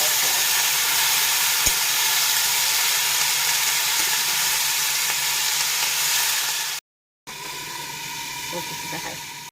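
Bitter leafy greens fry in a hot pan with a steady, loud sizzling hiss that carries almost unbroken, apart from a short gap of silence before the frying resumes.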